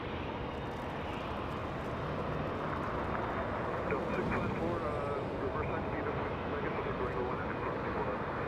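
Airliner departing Los Angeles International Airport for Barcelona: a continuous, moderately distant jet roar with wind buffeting the microphone and a voice speaking over it.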